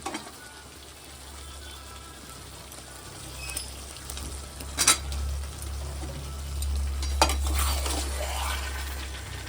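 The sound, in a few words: potatoes added to a pan of frying chicken curry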